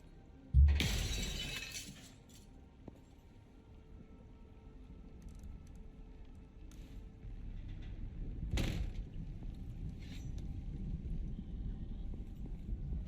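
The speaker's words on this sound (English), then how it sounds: "So now all the building pieces destruct, including the glass." Glass building pieces shattering in the video game Icarus: one sharp crash near the start and another later, with quieter background between.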